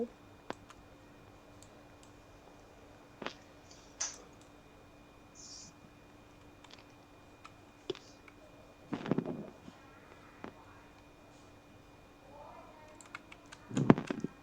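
Sparse keyboard typing with scattered single clicks and short bursts of keystrokes, fairly faint against a quiet room hum, growing busier toward the end.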